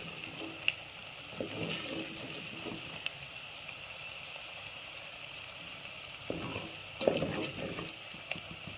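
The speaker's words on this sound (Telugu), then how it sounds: "వేగింది, రసం పోసుకుందాం, చారు పోసుకుందాం." Tamarind rasam poured into a fried tempering in a cooking pot, a steady hiss of sizzling with louder bursts of bubbling near the start and again toward the end, close by with no talk.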